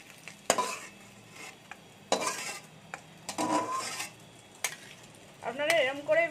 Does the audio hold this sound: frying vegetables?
yes